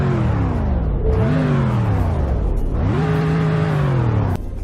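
A 1998 Ford F-150 engine in the Roblox game Greenville revs up twice, loud and close, each rise in pitch followed by a drop back toward idle, with the steady tone cutting off at the end.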